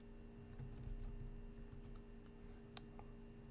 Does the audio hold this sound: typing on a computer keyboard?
yes